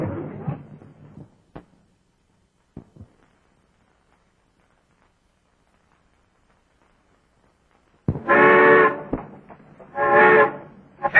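A steam-era train whistle sounds in two long, loud tonal blasts near the end, after a short stretch of talk and near silence.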